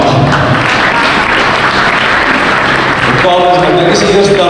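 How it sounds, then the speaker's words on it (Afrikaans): An audience at a wildlife auction claps loudly and continuously, dense close applause filling the space with a voice faintly underneath. "Kom ons gee hulle lekker aan die klap."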